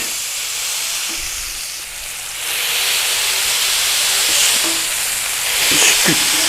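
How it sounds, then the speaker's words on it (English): A ball of beef meat is smashed flat in a hot pan, and loud steady sizzling and hissing swells up as the patty hits the surface. It is close and continuous, and a few faint scrapes come through. "take our ball of meat, put it in the pan, and then give it a squashing"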